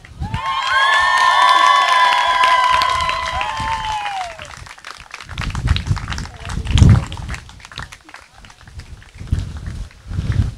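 Wedding guests at a destination wedding burst into loud applause and shouted cheers, with whoops rising over the clapping, then the noise fades into scattered movement and a few louder thumps and claps.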